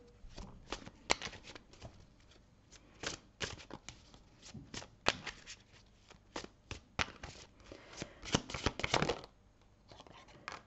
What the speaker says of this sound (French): je vais juste tirer une carte conseil pour vous, avec l'oracle des chakras du cœur